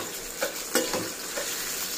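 Ingredients for coriander rice fry in a pan with a loud, continuous sizzle, while a utensil scrapes and stirs through them in a few brief strokes, heard up close without any talking.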